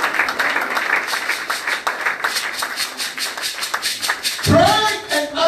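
Congregation clapping hands during a church service, a steady run of rhythmic claps with voices and speech mixed in, loud and close.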